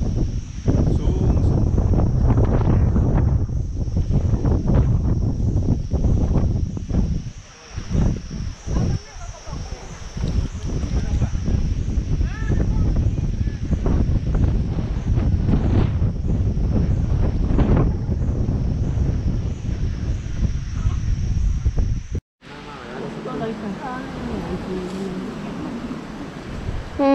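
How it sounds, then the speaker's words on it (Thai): Strong wind on a large rocky mountain top above a village in Shan State, buffeting the microphone in a loud, continuous roar for most of the clip, dropping to a quieter gusty hiss near the end. "ลมก็แรงด้วยนะครับตอนนี้"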